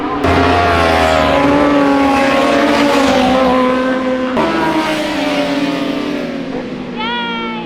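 Superbikes on a warm-up lap at a British racing circuit, their engines a loud, sustained multi-toned roar that rises and falls in pitch, with a sharp rising whine near the end.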